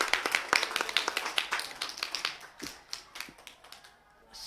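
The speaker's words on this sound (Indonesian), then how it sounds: "Tepuk tangan dulu untuk kalian ya." A class applauds in a computer and informatics lesson, scattered crisp hand claps that start busy and then thin out and fade toward the end, fairly close.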